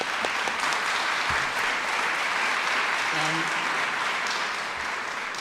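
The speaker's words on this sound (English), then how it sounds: "so a big round of applause" Steady, dense applause from a large audience at a mayoral portrait ceremony fills the room, continuous and fairly loud throughout.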